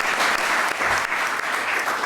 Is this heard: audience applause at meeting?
yes